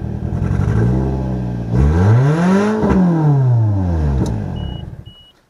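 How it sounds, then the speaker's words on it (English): Close car engine revs up from idle and settles back, a loud sweeping rise and fall with a faint uneven, rough edge to the note, followed by a short beep. "Then you rev it, slight misfire."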